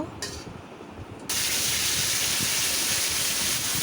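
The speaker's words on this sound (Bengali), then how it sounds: "দিয়ে দিলাম তেজপাতা আর জিরা। এখন ফোড়নটা আমি ভালো করে ভেজে নিব।" Bay leaf and cumin seeds fry in hot oil as a tempering for a pea-lentil fritter curry, a quiet hiss that jumps into a loud steady sizzle partway through.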